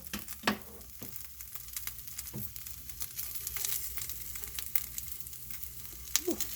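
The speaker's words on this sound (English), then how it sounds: "and then you get those cloves and you let them cook" Whole cloves fry in a hot pan for birria, a quiet scattered crackle and sizzle with irregular pops and faint stirring, no talking.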